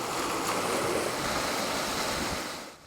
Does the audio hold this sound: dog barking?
no